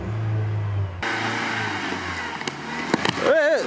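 A Soviet big-wheeler vehicle pulls away in first gear, its engine rising from a low idle into a sharp rev after about a second, then a rough, straining drive with clunks and a brief voice near the end.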